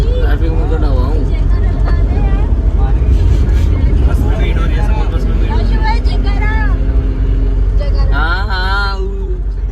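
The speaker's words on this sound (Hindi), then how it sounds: "ट्रैफिक में खड़ा हुआ हूँ।" Busy street traffic in an Indian market, with engines droning, horns honking repeatedly and crowd babble, loud and continuous all around a person standing in the jam, who talks over it.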